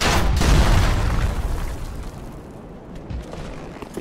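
Dark Souls 3 gameplay where an enemy fires on the player: a loud, deep boom opens the moment, then several weaker muffled blasts and rumbles trail off, with no one talking.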